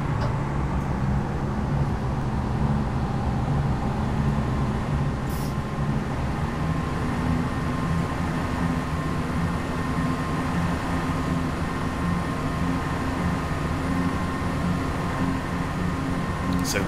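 Train driving in the Train Simulator 2015 video game, a steady rolling rumble of wheels and engine drone that runs continuously, with a couple of faint brief high squeals.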